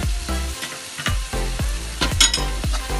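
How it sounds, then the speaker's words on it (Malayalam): Dried fish biryani masala with garam masala and pepper powder being stirred in a pan, a steady sizzle under repeated scraping strokes of a spoon, close and fairly loud, with no talk. "നല്ലതുപോലെ ഇളക്കി കൊടുക്കാം"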